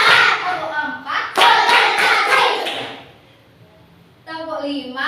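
A classroom of students claps in a rhythmic group pattern, a quick run of sharp, closely spaced claps. Voices chant before and after it.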